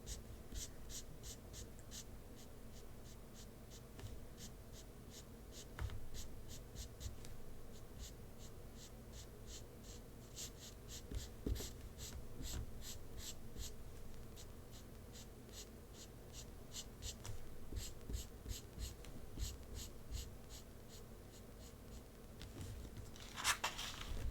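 Markers scratching across textured paper in a quiet art studio, a steady run of quick, close strokes with fine rhythmic squeaks and scrapes, soft and continuous with no talking.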